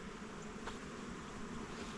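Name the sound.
honey bee buzzing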